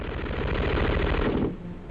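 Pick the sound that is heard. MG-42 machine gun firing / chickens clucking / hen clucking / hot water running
MG-42 machine gun firing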